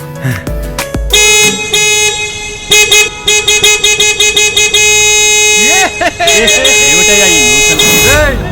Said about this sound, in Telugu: అసలు ట్రాఫిక్ ఇలా ఆగున్నప్పుడు హార్న్ కొట్టకూడదని తెలీదా